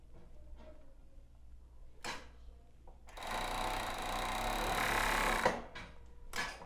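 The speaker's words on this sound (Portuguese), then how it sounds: "Eu vou passar uma costura nesse lado, ficando assim." A sewing machine stitches the side seam of lace panties in one sustained whirring run of about two and a half seconds, framed by quiet handling clicks and knocks before and after.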